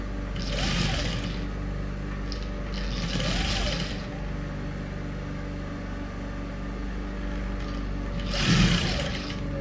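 A sewing machine stitches a transparent corset with a steady whirring hum, speeding up in a few short bursts, close and fairly loud, with no voices.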